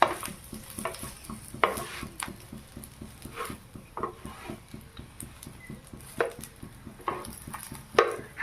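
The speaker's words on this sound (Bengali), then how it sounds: "আমি এটা ভেজে নিতে হবে" Stuffed flatbread frying in white oil in a pan, crackling sizzle alongside a fast, regular pattern of light tapping or bubbling pops and occasional louder clicks.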